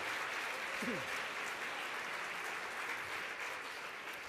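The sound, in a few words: audience applause for award nominees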